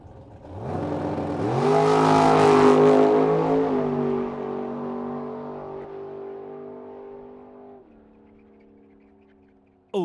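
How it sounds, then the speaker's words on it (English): A 1964 Corvette at a drag strip revs up close and loud, then pulls away hard with a rising engine roar that holds steady and slowly fades into the distance. "Now Sean Tracy rolls up right-hand side. Absolutely gorgeous 64 Corvette."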